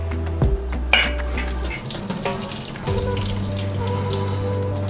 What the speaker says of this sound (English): We'll just go ahead and drain that.